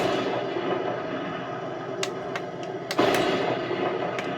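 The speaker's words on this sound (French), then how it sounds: "on va appuyer sur ce bouton ici, le bouton B, et appuyer sur le bouton de tir. Et regardez bien. Voilà, et là j'ai tiré au canon" A Heng Long Abrams RC toy tank fires its simulated cannon sound effect: two sharp electronic bursts, a quick crack followed by a louder boom, heard close over a steady hum of background noise.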